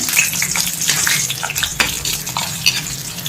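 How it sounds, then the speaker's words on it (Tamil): Dried red chillies fry in a hot pan for a curry leaf dish, with a steady close sizzle and crackle and the scrape of a spoon stirring through them. "ஃபர்ஸ்ட் காஞ்ச மிளகாய் ஃப்ரை பண்ணி எடுத்துருவோம்."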